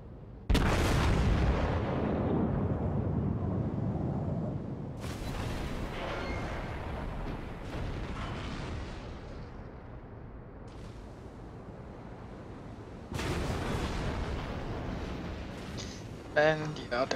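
The battleship Wyoming fires its main guns in World of Warships, with heavy booming salvos rolling out in the background. Commentary runs over the gunfire throughout.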